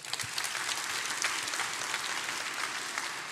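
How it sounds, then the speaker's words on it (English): Brief applause from an audience at a stock market Q&A session, a steady, moderately quiet patter of many hands clapping with no talk over it. "So let's clap for him right quick."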